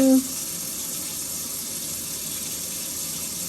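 Cold water running from a kitchen tap while fried chicken is prepared, a steady, close hiss of flow continuing unbroken after a brief voice at the start.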